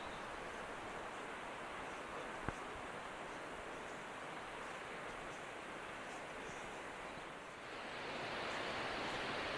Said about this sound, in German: Hier gibt es viele kleine Wasserfälle.